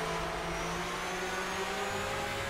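A Porsche flat-six boxer engine in the rFactor 2 racing game holds a steady, buzzing drone at constant revs, continuous and moderately quiet, with no voices.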